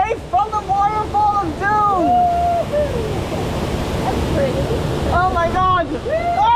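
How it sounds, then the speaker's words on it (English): Roaring water of the Shipwreck Rapids ride at SeaWorld San Diego, a loud, continuous rushing wash heard close up beneath excited shouts and screams from riders. "We're safe from the waterfall!"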